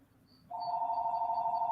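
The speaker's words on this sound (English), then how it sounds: "please ignore my phone ringing." A phone rings with a steady electronic tone that starts suddenly after a quiet moment and carries on unbroken, fairly close, with no talking over it.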